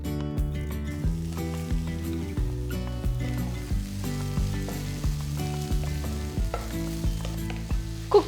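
Chopped tomatoes and onions sauté in a pan for a chicken korma, a soft sizzle running under melodic background music.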